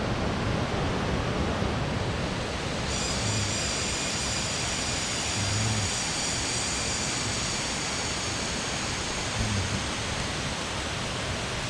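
Broad, constant rushing water roars without a break at Kroeng Krawia waterfall in a Thai forest, steady and full like falling water heard up close.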